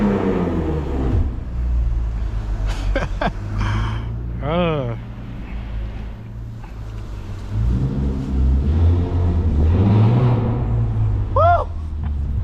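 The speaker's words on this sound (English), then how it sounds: "Give you guys some more revs." Catless Lexus IS250 engine revving from inside the car on a night drive, a steady low rumble swelling and easing under loud continuous road noise, with people talking over it.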